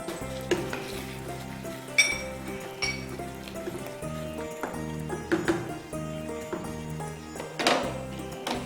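Marinated mutton for mutton rezala goes into gravy already boiling in a pot, giving a soft sizzle with stirring scrapes and a few clinks of utensil on metal over steady background music.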